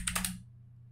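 A computer keyboard gets a quick burst of three or four keystrokes, close and fairly quiet, before a low background hum takes over.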